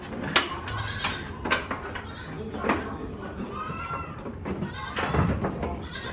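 Goats bleating at the Hakimi goat farm in Alirajpur, Madhya Pradesh, several close, loud calls rising over busy farmyard noise while people talk nearby.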